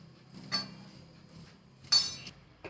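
Semolina and wheat flour stirred together in a bowl for churma laddu, with two distinct clinks of a spoon against the bowl over a quiet, soft scraping.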